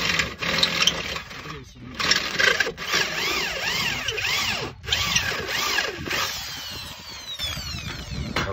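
A power drill bores a large hole through a Subaru wheel, its whine rising and falling in strained, repeated sweeps with brief pauses as the motor labors; close and loud, with some voices in the background.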